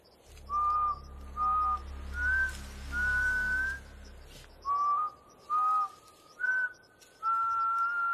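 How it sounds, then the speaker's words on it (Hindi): A person whistles the same short tune over and over, clear bright notes in separate bursts with brief pauses between, close by over a low hum that drops out partway through. "तू सीटी क्या बजा रहा है बार बार"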